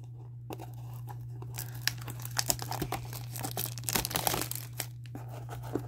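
A foil blaster pack of 2021 Panini Prizm NASCAR trading cards being ripped open, close crinkling and tearing over a steady low hum.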